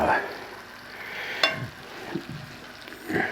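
Shrimp for shrimp scampi sizzle steadily in a hot pan as they are spread around, with close scraping stirs and clinks of the utensil over the frying hiss.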